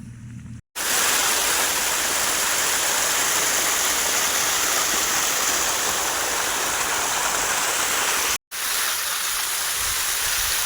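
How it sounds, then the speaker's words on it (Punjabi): Rushing water from a mountain stream flows loudly and continuously, a broad steady hiss with a brief cut partway through. "ਦੇਖਦਾ ਨਾ ਪਹਾੜਾਂ ਤੋਂ ਪਾਣੀ ਦੇਖ"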